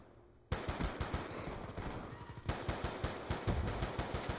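Rapid automatic gunfire from a weapon in a first-person shooter video game cuts in abruptly after a brief quiet moment and then continues as a steady stream of close, punchy shots with short pauses between bursts.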